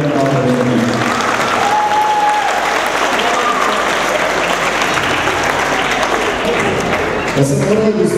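Audience applause at a folklore ensemble concert in Klenje, steady and dense from a large crowd, loud and sustained throughout with a brief dip near the end.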